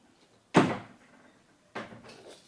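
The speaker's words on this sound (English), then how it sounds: "Shut the door." A door being shut indoors: a sharp, loud thud followed by a second, softer knock and rattle about a second later, with quiet in between and no voices.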